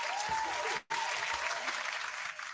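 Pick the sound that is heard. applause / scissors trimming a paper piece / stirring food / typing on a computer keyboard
applause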